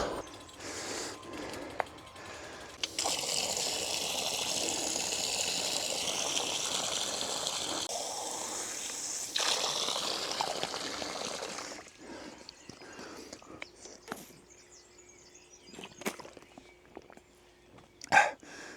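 Water gushing from a spring below Števerjan, a steady broadband rush heard near and loud for about ten seconds, then fading into quieter outdoor background with scattered knocks and clicks.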